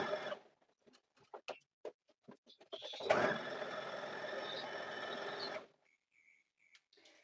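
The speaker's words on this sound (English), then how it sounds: "Now we're going to stitch at 1/4 of an inch away from that" A sewing machine stitching a quilted Valentine table runner: a few soft handling clicks, then a single steady whirring run of about two and a half seconds, close and moderately quiet, with no talking.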